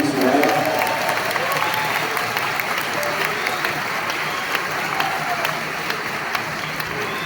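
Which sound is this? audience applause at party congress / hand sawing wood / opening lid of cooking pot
audience applause at party congress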